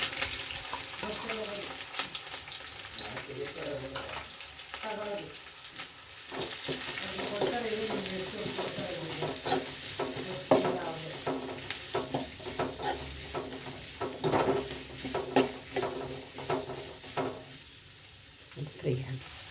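Green chillies, curry leaves and onion sizzle and frying in a pan for an egg curry, a steady close crackle with stirring scrapes throughout, and someone speaking over it.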